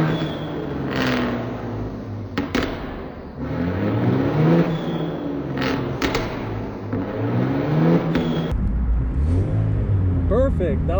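Manual car engine revving up and dropping as the driver downshifts, with rising and falling engine tones and a deeper rumble near the end, heard from inside the car under people talking.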